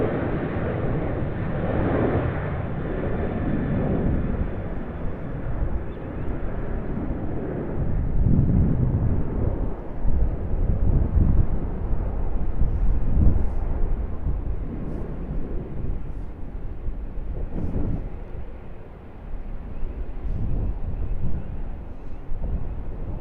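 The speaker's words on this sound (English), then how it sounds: "You guessed it, it's a Boeing 737-800 operated by Qantas." A Qantas Boeing 737-800 airliner at Sydney Airport makes a continuous broad jet roar for over twenty seconds. The roar swells in the middle and is mixed with gusty wind buffeting on the microphone.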